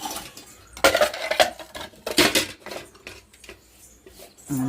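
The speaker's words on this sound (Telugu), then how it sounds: "ఇద్దరు అంట్లు తోముతా ఉండు" Dishes being washed in a home kitchen: pots, pans and cutlery clatter and clink in irregular bursts, close and moderately loud, with scrubbing and rubbing between them and no talk.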